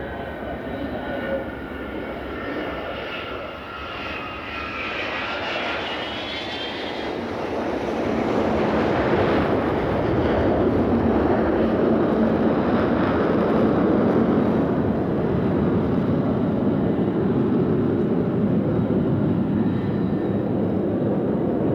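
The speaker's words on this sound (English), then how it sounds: "this Vulcan is the only one left flying after the Vulcan squadrons were disbanded in 1984" An Avro Vulcan bomber, the last one still flying, passes overhead at a Battle of Britain salute air display, a loud, broad jet roar that swells and stays heavy and sustained.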